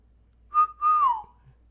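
A person imitates a two-note wolf whistle, a short rising tone followed by a longer falling one, clear and alone.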